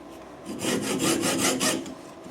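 A metal pin is cut to length by hand in a workshop, with a hacksaw rasping in a steady rhythm of about six back-and-forth strokes, close and clear.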